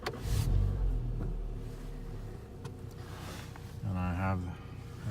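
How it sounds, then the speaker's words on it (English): A car idles with a low, steady engine rumble beneath a person talking, and a louder burst of engine noise rises briefly near the end. "if I turn on the car"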